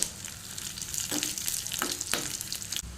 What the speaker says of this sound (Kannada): ಒಣಗೆ ಬೆಳ್ಳುಳ್ಳಿಯನ್ನು ಹಾಕ್ತೇನೆ ಒಣಮೆಣಸು